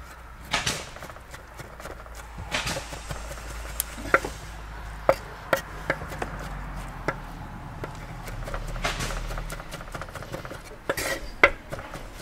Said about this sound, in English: I'm gonna finally chop them up.